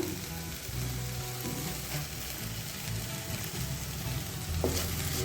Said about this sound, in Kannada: ಹಾಕಿ ಚೆನ್ನಾಗಿ ಫ್ರೈ ಮಾಡೋಣ